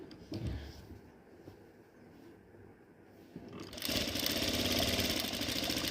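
A sewing machine stitches a round neckline on a frock nighty, starting with soft handling noises and then breaking into a loud, steady run of close stitching.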